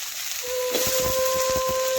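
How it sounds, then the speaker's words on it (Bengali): Small pieces of young pointed gourd (potol) drop into a hot kadai, and a sudden broad sizzling hiss rises and holds steady, loud and close. "এখন ওই কড়াতে আমি আবারও দেখুন ছোট ছোট একদম কচি পটল কেটে রেখেছিলাম, সেগুলো এখন দিয়ে দিলাম কড়ার মধ্যে।"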